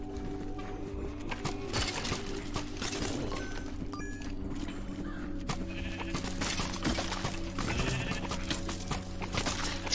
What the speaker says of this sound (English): try not to hit the sheep